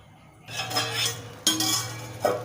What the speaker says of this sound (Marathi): झाकण ठेवते